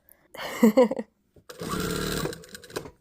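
A domestic sewing machine stitching around a patch pocket: a short burst of running stitches, a pause, then a longer steady whirring run that trails off, heard close up.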